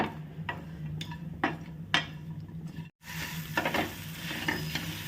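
Dry dates and dried fruits roast in ghee in a pan, with a steady soft sizzle and repeated scraping, clicking strokes of stirring, a brief gap midway, no speech.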